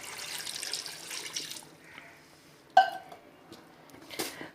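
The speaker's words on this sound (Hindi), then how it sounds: "अब पानी डाल देंगे इसके अंदर" Water pours and splashes into a pressure cooker for beef karahi in a home kitchen, a close burst of flowing liquid followed by a few sharp clinks and a brief final splash.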